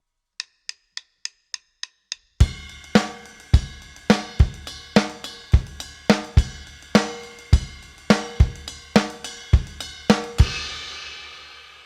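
Seven quick clicks count in, then a full drum kit plays a 7/8 groove with punchy kicks, snare hits and cymbal wash.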